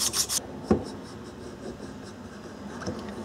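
Sandpaper of 220 grit rubbing across an electric trolling motor shaft, giving a few close, dry rasping strokes, with a sharper scrape near the start and low handling noise between them.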